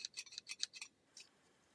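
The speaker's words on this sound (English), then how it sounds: "Probably not the best scissors to use." Scissors snipping while sewing: about six quick, crisp cuts in a steady rhythm, then a pause and one fainter snip, close and alone with no talk.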